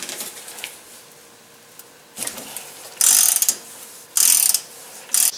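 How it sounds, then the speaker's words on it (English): A socket ratchet loosening the outer tie rod nut on a Dodge Dakota: soft clicks at first, then three loud bursts of rapid ratchet clicking, each close by and under a second long, with short pauses between. "Loosen the outer tie rod nut with the 13/16 socket and a ratchet."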